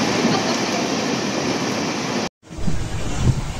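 An Intercity Express train running toward Ahmedabad Junction, heard from inside as a steady loud rumble and rattle that drops out briefly, then resumes with faint clatter.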